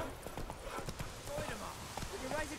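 Horse hooves clip-clop in the video game The Witcher 3, making a close, brisk run of rhythmic knocks while a person speaks over them.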